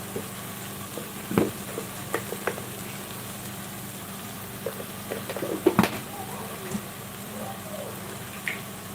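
Chicken salna cooking in a pan with garam masala and salt, stirred with a few soft scrapes and light sizzling under a steady low hum, fairly quiet and close.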